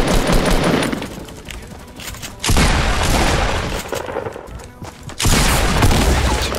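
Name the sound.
gunfire in the video game Fortnite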